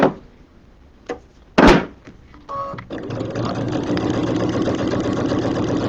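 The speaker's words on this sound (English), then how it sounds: "So I'm sewing on that vinyl again." A sewing machine fitted with a Teflon foot stitches through vinyl on a small project bag, starting with a few short bursts and clicks, then running in a steady close whirring hum to the end.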